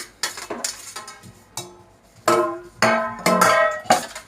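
Dishes clatter and clink in short bursts, with water-splashing noise in between, close by and moderately loud, with no talking, while washing dishes with homemade dishwash liquid.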